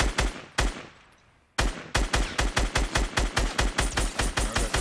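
Loud, rapid automatic gunfire in the Fortnite video game, with a short burst, a pause, then a long rhythmic run of evenly spaced shots close up, with no talk.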